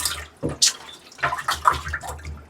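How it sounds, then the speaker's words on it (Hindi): Water gushes and gurgles into a pipe in short, uneven bursts, splashing close by with brief pauses between surges. "पता नहीं इसमें पानी क्यों भर रहा है"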